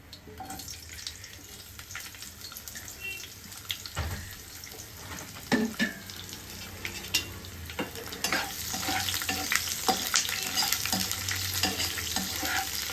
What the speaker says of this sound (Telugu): ఉల్లిగడ్డలు వేసుకున్నప్పుడు మనం కలుపుకోవాలి గైస్